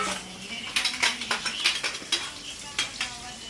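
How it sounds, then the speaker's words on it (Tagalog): Mussels fry in a pan, a low sizzle under repeated clinks and scrapes of a metal utensil stirring against the pan, fairly close and moderately quiet. "Nagpiprito."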